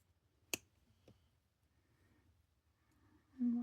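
Small jewelry snippers clip off the bent ends of beading wire: two sharp clicks near the start, about half a second apart, close and crisp, followed by quiet handling and a brief tonal hum at the end.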